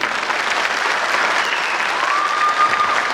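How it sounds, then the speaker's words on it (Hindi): Audience at a stand-up comedy show breaking into loud, sustained applause, a dense continuous wash of clapping close by, with a faint whistle or cheer rising near the end. "माँ के लिए जोरदार ताली हो जानी चाहिए"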